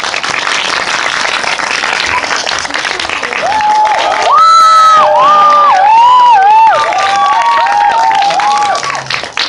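Cinema audience at a film screening Q&A applauding and cheering as the director and actors arrive, a loud, dense crowd roar with clapping and whoops that swells midway and holds.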